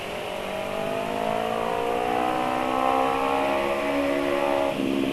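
A loud motorcycle engine revs steadily and climbs in pitch, the tone dropping sharply near the end as if shifting gear, with no talking over it.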